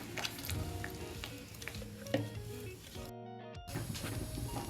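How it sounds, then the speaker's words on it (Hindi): Grated carrot fries in ghee in a pan, a steady close sizzle with light stirring scrapes throughout and a short quieter gap before the crackle resumes. "घी के अंदर हम इसे 5 मिनट के लिए भून लेंगे"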